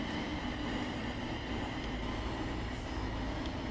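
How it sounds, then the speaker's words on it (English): A class 37 diesel locomotive rumbles in the background of a rail simulation in Train Sim World, a steady, unbroken mechanical drone with a low throb and no talk. "Sounds to me like in the background I can hear a 37 chugging away."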